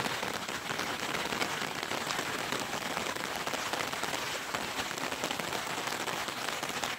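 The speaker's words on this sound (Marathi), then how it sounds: "पाऊस खूप जास्त आला." Heavy rain pours down in a dense, even hiss of drops striking surfaces, continuous and unbroken with no voices.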